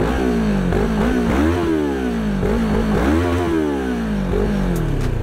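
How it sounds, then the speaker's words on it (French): A 2024 Moto Morini X-Cape 650 motorcycle exhaust revs repeatedly, rising and falling in pitch through several loud throttle blips over a steady rumbling idle, up close. "je vais vous faire écouter le son de la ligne"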